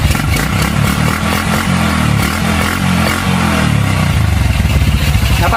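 A motorcycle with an open carburetor revs hard and quickly, the engine note loud and close, rising and falling with a rough clattering edge and no gap between throttle blips.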